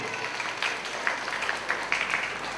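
Applause for the prize-winning students at a kindergarten learning carnival award ceremony, with scattered individual claps rising above a soft, thin room bed, moderately quiet and fairly sparse.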